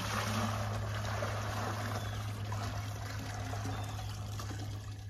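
Rain water emptied out of a catchment container, a steady pouring and trickling rush close by, holding level before easing off slightly at the end, over a low constant hum.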